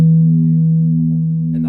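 A single low, sustained electric guitar note through an effects pedal switched fully left, with a steady processed tone, held close and loud, ending with a brief noise.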